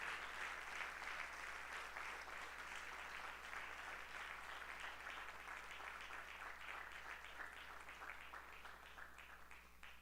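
Congregation applauding at a Saturday church lecture in Rio de Janeiro, sustained dense clapping from a large crowd, fairly distant and even in level, easing slightly toward the end with no speech on top.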